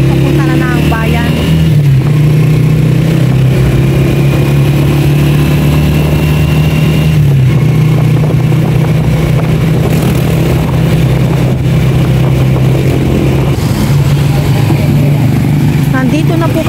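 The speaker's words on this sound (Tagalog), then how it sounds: "Nasa tricycle na po kami." A motorcycle tricycle's engine hums loud and steady throughout the ride toward town on a sunny day, with slight shifts in pitch, while people speak over the drone.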